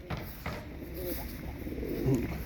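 A sarıkır pigeon, a hungry bird just caught, coos low and soft in a few brief murmurs close by, with a stronger throaty coo near the end over quiet background noise.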